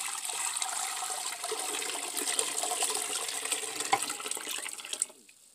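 Hot water runs steadily into a home canning pot as it fills, a continuous close rush of pouring liquid that stops abruptly near the end.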